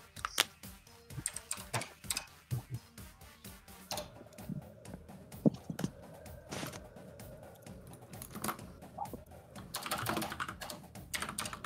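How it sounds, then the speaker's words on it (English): Steady, close clatter of a computer keyboard being typed on, rapid irregular keystrokes running continuously with short pauses, no talking. "I should name my stream ASMR keyboard sound"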